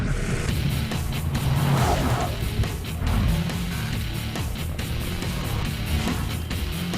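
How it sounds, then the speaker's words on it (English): A car's exhaust roars loudly and continuously for about seven seconds while driving hard, with engine revs rising and falling and possible tire squeal, close and with no talking. "I can hear your exhaust through my earpiece."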